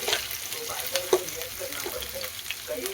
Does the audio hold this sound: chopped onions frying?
yes